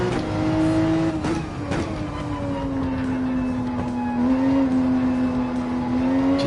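Race car engine in Gran Turismo 7 holding a steady, loud drone at light throttle, with a rising and falling pitch and brief blips near the start, continuous throughout and no talking.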